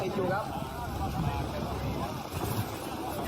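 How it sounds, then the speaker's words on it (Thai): A rough, rumbling racing boat engine churns steadily for a few seconds, noisy and close, as it is cranked and struggles to catch at a boat racing venue. "กำลังปั๊มเครื่องยนต์ให้มันติดอยู่ครับ"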